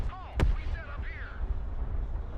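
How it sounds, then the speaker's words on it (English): A single sharp mortar shot booms in the video game Broken Arrow, a brief loud blast over a low rumble, with a synthetic radio-style voice heard around it. "Fire coordinates received. Mortar ready."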